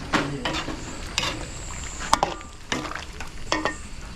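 A pot of food seasoned with salt, sugar and brown sugar bubbles and simmers on a stove with a soft, steady hiss, broken by a few light clinks and stirring knocks.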